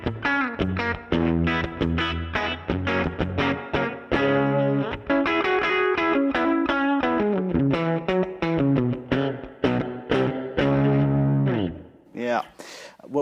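An electric guitar played through a Mojotone 5F4 Tweed Pro amp with a Strymon Flint reverb, plucked notes and chords ringing out in a continuous, lively phrase that thins to a few quieter notes at the end.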